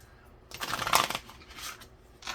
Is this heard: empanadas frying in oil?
no